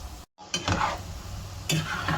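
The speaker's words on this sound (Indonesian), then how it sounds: "Kita goreng tempenya sampai matang ya." Hot oil sizzles and crackles up close as tempeh fries, with a brief stirring scrape; steady and fairly loud, no voices.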